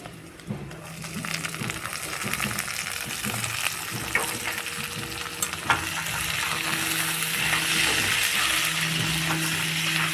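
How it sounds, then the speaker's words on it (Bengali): Cut potatoes sizzle steadily in hot oil in a pan, with scraping stirs and occasional utensil clicks; the frying grows louder and denser toward the end, with no talking. "আলুটাকে চার পাঁচ মিনিট ভেজে নেব"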